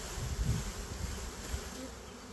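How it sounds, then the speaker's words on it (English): A swarm of honeybees buzzing after their tree is shaken, a dense, steady hum of many wings close by, with a few louder low thumps near the start. "those bees are going to start flying around"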